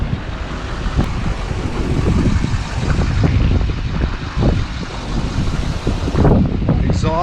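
An LBZ Duramax diesel pickup truck idles outdoors, its low engine rumble half buried under heavy wind buffeting the microphone, with a few knocks and scrapes nearby and someone talking briefly.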